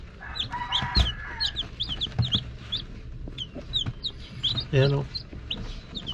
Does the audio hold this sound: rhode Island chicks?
yes